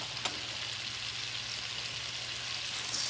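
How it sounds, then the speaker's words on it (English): Three bell peppers, red, yellow and green, sauté in butter in a pan, giving a steady, close hiss of sizzling throughout with a faint low hum underneath. "I'm going to go ahead and saute these vegetables"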